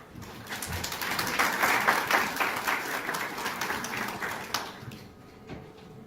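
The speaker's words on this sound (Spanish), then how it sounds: "Recibamos con un fuerte aplauso" Audience applause fills a university panel forum on pretrial detention in Guatemala, a steady dense wash of many hands clapping that swells in the middle and then thins out toward the end, with no talk over it.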